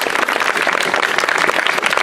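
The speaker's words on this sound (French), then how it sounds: "Je vous laisse l'applaudir" An evening concert audience claps for the guitarist in a dense, steady burst of applause, loud and continuous throughout.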